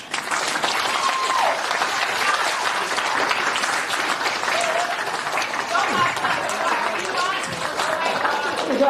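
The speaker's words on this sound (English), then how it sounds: "when you start clapping, I want you to see the person next to you and clap faster than the person next to you" A crowd at a product launch event claps rapidly and continuously, forming a thick, even roar of applause. Crowd voices mix in throughout.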